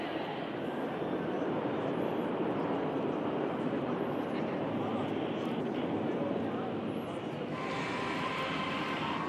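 A dense, continuous roar of an aircraft flypast at an Indian Armed Forces aerial display over Marina Beach, Chennai, with the leader pulling up alongside wingmen; loud and steady throughout, with a commentator talking over it.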